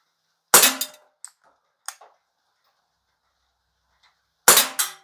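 A GAMO P-27 CO2 air pistol fires two sharp, loud shots about four seconds apart, with faint clicks and small metallic sounds in the quiet gap between them.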